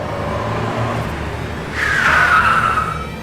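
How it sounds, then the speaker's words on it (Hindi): A car approaches and skids to a halt, engine rumble building before a sharp tyre screech rises and fades over about a second. "ये तो मोना की गाड़ी लग रही है।"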